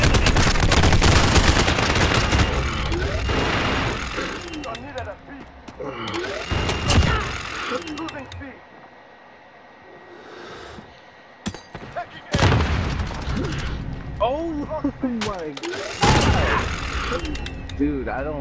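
Heavy automatic gunfire in Call of Duty: Modern Warfare, loud sustained bursts with booming impacts, broken by quieter gaps and returning in dense volleys toward the end, with voices talking over parts of it.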